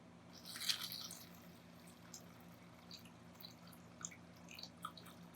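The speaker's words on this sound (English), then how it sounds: "pour in your water" Water poured into a gift vase, a short splashy gush at the start followed by faint drips and trickles over a low steady background hum, close and quiet.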